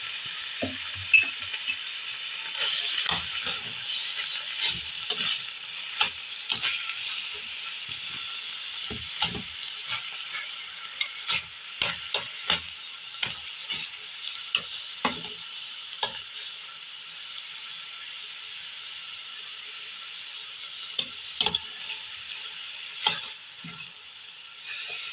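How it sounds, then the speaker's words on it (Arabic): Two sliced onions frying in a pan for a béchamel pasta sauce, giving a constant bright sizzle with frequent scraping and stirring knocks from a utensil against the pan, close and without talk. "وبعدين هننزل بالبصل، بصلتين مقطعين زي ما انتم شايفين كده."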